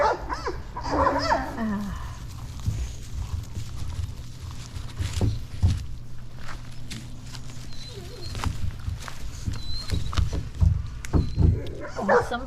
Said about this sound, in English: Now the dogs are going crazy. They want their chicken